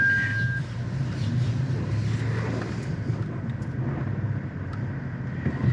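A 2024 Toyota Tacoma Limited pickup idles and creeps through a tight three-point turn on an off-road trail, its engine a steady low rumble throughout with faint outdoor noise around it.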